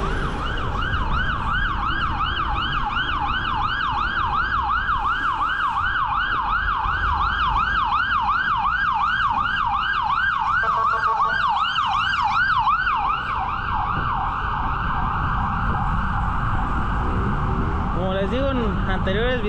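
Wailing sirens rise and fall continuously over steady street traffic and motorcycle noise in Morelia, Michoacán, loud and close, with a second siren pattern shifting near the end.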